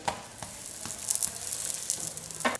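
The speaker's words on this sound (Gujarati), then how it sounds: "ઘી આ રીતે ગરમ થઈ ગયું છે તો આપણે આ બંને શેકી લઈશું" Buns roast in hot ghee until crispy, giving a steady close sizzle and crackle with faint stirring clicks throughout and no voices.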